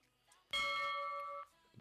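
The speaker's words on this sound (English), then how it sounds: "There's the bell to restart." A single clear electronic bell tone at a show jumping competition during the FEI Jumping European Championships for Young Riders, sustained for about a second and signalling the restart, over quiet arena ambience.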